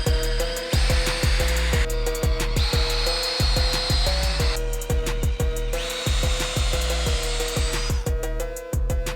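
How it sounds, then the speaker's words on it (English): A power drill bores into a foam 3D archery target in long whining bursts, close and loud, separated by short pauses and punctuated by regular clicking and knocking, without speech. "my plan is I'm just gonna drill this drill all the way in until it bottoms out"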